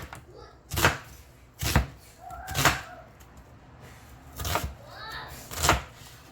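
A knife chops a whole white onion into big chunks for homemade chicken soup, making five sharp, evenly spaced thuds on a board, close and loud, with no talk.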